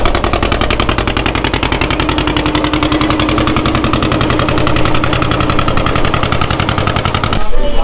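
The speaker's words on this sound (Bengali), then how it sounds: "আর এই যে ইঞ্জিনের আওয়াজ, ভট ভট ভট ভট ভট ভট," A boat engine at Gosaba ghat in the Sundarbans chugs loud and near in a rapid, even thudding beat that holds steady throughout, with a brief disturbance at the very end.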